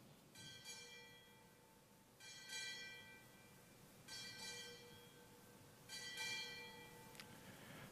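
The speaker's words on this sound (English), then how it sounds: "Time orderly, strike 8 bells." A ship's bell is struck for eight bells at a U.S. Navy ceremony, ringing in four evenly spaced pairs of clear, faint metallic strikes that each ring on in the quiet.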